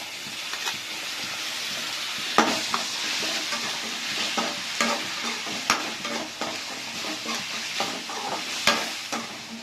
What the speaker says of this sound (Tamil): தக்காளி சேர்த்துக்கலாம்